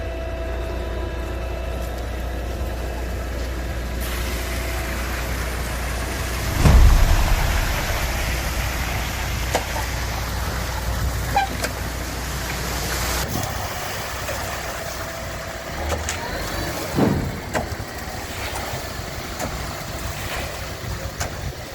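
A pair of concrete mixer trucks rumble continuously at a concrete post production yard, a steady low engine drone with wind buffeting and a few louder knocks and surges.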